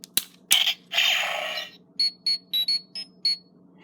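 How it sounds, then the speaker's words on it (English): A Power Rangers Super MegaForce toy morpher communicator gives off electronic sounds: a few bursts of noisy chirps, then a run of short, evenly spaced high beeps. "the communicator sound says Go Go Power Rangers on it"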